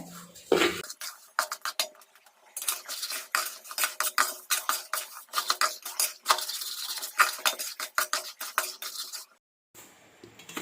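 Rice flour roasting in a pan, stirred without pause, giving quick close scraping and clinking strokes of a spoon against the pan in an uneven rhythm, then a brief silence near the end.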